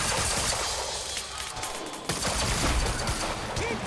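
Dense, continuous gunfire and rapid bursts in the shooter game Quantum Break, loud and unbroken, mixed with crashing impacts and game sound.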